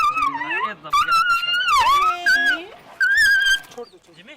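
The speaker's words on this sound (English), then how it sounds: "examining sick dogs as they move through the villages" A sick dog whimpers and yelps during a veterinary examination on a village rabies vaccination outreach in India, with high, wavering whines that rise and fall in several close bursts over background noise.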